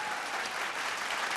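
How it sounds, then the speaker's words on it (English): Applause from a singing-contest audience for a contestant, dense continuous clapping from a sizable crowd that holds steady throughout. "Another big round of applause for him."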